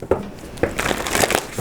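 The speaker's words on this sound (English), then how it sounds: "2 more shuffles, please, for Gemini." A deck of tarot cards is shuffled in quick bursts, producing crisp riffling and rustling strokes that come close and fairly loud over about two seconds.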